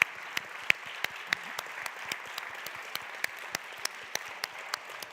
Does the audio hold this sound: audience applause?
yes